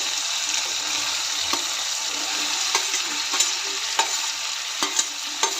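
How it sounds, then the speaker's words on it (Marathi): Chopped bottle gourd and tomato sizzle and fry steadily in a pan, a constant close hiss broken by soft scraping clicks of a spatula stirring. "दुधी घालून थोडा वेळ परतून घेऊया"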